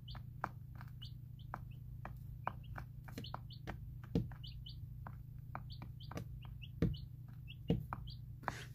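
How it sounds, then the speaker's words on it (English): Thirteen-day-old baby chicks in a sand-bedded brooder kick and scatter their feed, giving sharp scratches and knocks over a constant low hum, with small high peeps scattered throughout. "our baby chicks like to kick out a lot of the food and just sort of try to almost hoard it underneath"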